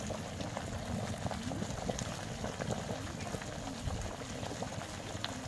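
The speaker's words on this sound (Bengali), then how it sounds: "ওমা এত জোর ফুটছে হাড়ির জল" Quicklime boils vigorously in a pot of water, seething and bubbling hard. The dense, continuous churning stays loud and steady throughout.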